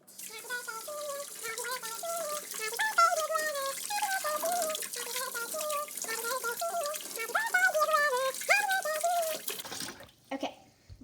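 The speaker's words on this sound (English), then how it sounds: "Step 1, wash your hands. So, start with some water." A kitchen tap runs steadily while hands are washed, the water hiss continuing under a clear singing voice before stopping near the end.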